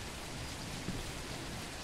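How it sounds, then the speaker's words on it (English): Steady, soft rainfall hiss in a horror video game, with a continuous even texture and no other sounds. "It's raining now?"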